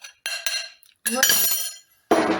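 A metal spoon is cleaned off against a bowl while making pumpkin biscuits, giving a few sharp, close clinks in separate bursts with short pauses between them.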